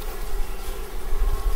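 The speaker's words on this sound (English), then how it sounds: "I'm running into more bees." Honey bees buzz at a hive, a dense, steady droning swarm with a low rumble underneath, continuous and close throughout.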